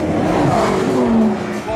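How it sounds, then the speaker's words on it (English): A Lamborghini Huracan, the Gallardo's replacement, revs hard as it accelerates on a road drive, its engine note climbing in pitch, loud and steady from inside the car. "my first drive in the Lamborghini Huracan, the replacement for the Gallardo"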